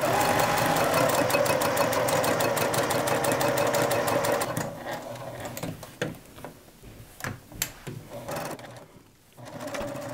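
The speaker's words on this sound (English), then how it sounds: "next I'm going to take it to the sewing machine and I'm going to sew all the way around at a 1/4 inch seam allowance" A sewing machine stitches a quarter-inch seam around a zippered tote bag, rapid and even at first, then slowing into short stop-start bursts with pauses as the fabric is turned.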